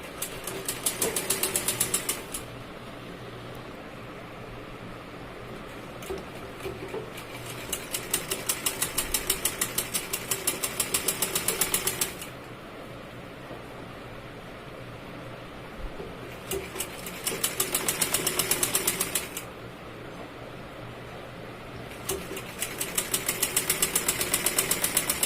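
Sewing machine stitching sleeves onto a button-front blouse, running in four steady rapid bursts of several seconds each, separated by pauses with a low background hum, close and clear.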